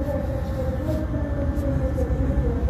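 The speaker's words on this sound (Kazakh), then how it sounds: "Ал Семейдің пойызы да келді." A regional passenger train on the Semey route pulling into a station, a steady loud low rumble and mechanical drone with a faint tonal whine, close and continuous.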